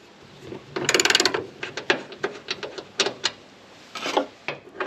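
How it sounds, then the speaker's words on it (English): A 12mm socket ratchet works a bolt on a gas bonnet strut bracket of a Landcruiser 250, with close, quick clicking bursts in short irregular runs and pauses, no talking. "Undo the bottom bolt with a 12mm socket"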